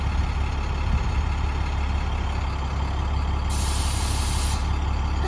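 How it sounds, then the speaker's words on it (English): Air brakes on a bus hiss as they are set and let go, a steady loud blast of air over a low idling engine rumble, with a sharper rush of escaping air lasting about a second near the end. "release the parking brake, roll at about 5 miles per hour, and then press on the service brake"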